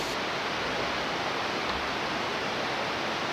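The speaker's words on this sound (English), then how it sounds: "Standing here looking over the waterfall" A large waterfall in flood in South Africa, a loud, unbroken roar of rushing water that fills the whole moment with dense, steady noise and no talk.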